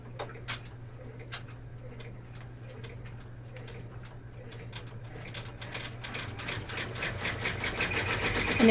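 An embroidery machine stitches steadily and close by, its soft rapid rhythmic ticking growing gradually louder and busier over a constant low hum, with no talk.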